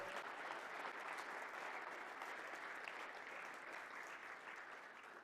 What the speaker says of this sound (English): So can we give them a round of applause for their hard work?